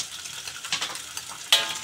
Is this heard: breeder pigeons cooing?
no